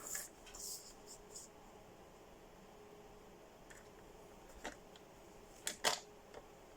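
A paper guillotine cutter with a blade that does not close properly trims a sheet to 12 by 12, giving faint scattered clicks and rustles, then a sharper cluster of snapping cuts near the end in a quiet room.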